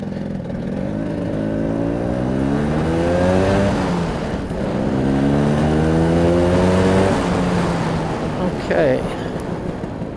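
A Vespa GS 150 scooter fitted with a P200E engine on a test ride, its two-stroke motor revving up through the gears in repeated rising sweeps, steady and close throughout.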